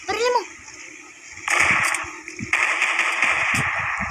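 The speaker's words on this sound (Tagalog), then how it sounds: "Buhay pa, barilin mo." Several sharp bursts crack out in quick succession, like gunshots, followed by a noisy, splashing wash of sound; a short voice-like sweep opens the clip.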